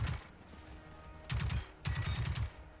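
A Kpist submachine gun in the video game Generation Zero fires in three rapid bursts. The opening burst is short, and two longer strings of fast, loud automatic fire follow after a brief pause.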